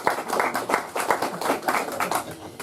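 Audience applause for the candidates at a McCreary County judge-executive debate: a dense, steady patter of many hands clapping at moderate loudness for a few seconds, with no talk over it.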